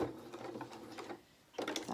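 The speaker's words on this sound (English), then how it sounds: "I'm just going to do a quick little running stitch" A sewing machine runs a quick running stitch along the edge of small fabric mouse ears, a faint rapid mechanical whirr with a brief pause near the end, close and without talk.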